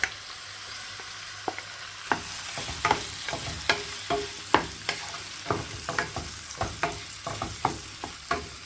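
Marinated prawns frying with golden-browned onions in a pan for prawn pulao: a steady close sizzle broken by frequent sharp spatula clicks and scrapes in an irregular rhythm, no talking.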